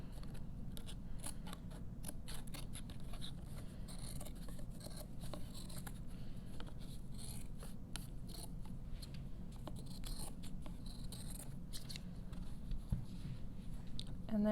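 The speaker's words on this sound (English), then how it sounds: "just go ahead and trim that off with your scissors." Scissors trimming excess fabric from the back of an embroidery hoop quilt-block ornament, a continuous run of close, crisp snipping and rasping cuts with no voice.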